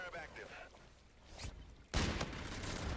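Intervention sniper rifle firing in Modern Warfare 2: a sharp game gunshot blast near the two-second mark, followed by sustained loud crackle and report, after quieter background noise and game sounds.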